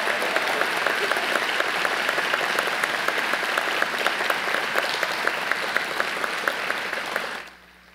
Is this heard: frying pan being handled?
no